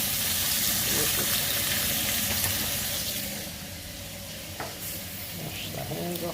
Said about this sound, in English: just that pepper getting fried in the pan